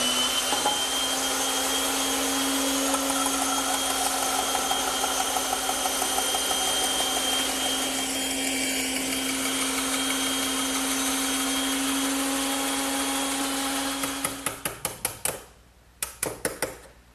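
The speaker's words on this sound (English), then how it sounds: "I prefer to do it on the bandsaw." A bandsaw runs with a steady, loud motor hum and whine while making shoulder cuts on wooden tenons for a trestle table, then winds down into scattered clicks and knocks near the end.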